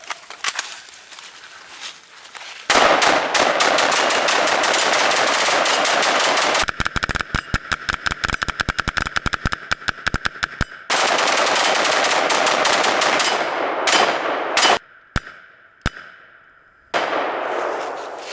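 Heavy gunfire from several weapons during a rubber strap versus chain torture test: long sustained bursts of rapid automatic fire broken by brief pauses and single shots, very loud and close, with no talking.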